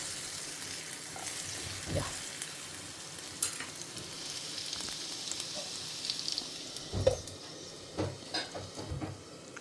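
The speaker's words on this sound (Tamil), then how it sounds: "நல்லா வாழைக்காய் வதங்குற வரைக்கும் அது இருக்கட்டும்" Raw plantain sautés in an oily pan for sambar, a gentle steady sizzle with occasional stirring scrapes and clinks against the pan, close and moderately quiet.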